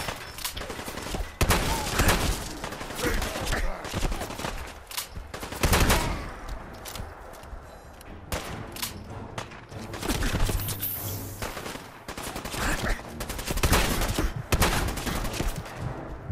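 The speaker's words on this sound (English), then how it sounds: "I missed both those shots with the shotgun." Heavy shotgun and other gunfire in the video game Fallout 4 (Far Harbor), dense loud booming bursts and thuds layered over game ambience for the whole stretch, with no speech.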